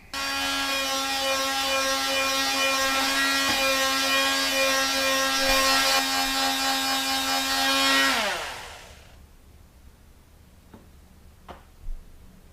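A power router whines steadily for about eight seconds, a loud high-pitched motor rounding over the top edge of a wooden board, then spins down into near silence with a couple of faint knocks.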